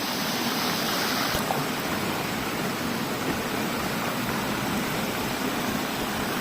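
Steady broadband rush of a flowing stream at a deep, scenic river spot, loud and continuous throughout with no talking over it.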